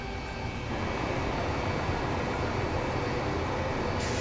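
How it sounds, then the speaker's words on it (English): Airbus H135 helicopter engines and rotor in MSFS2020 run as a steady, loud broadband roar with a constant droning tone, alone and unbroken throughout. "Why are the motors running?"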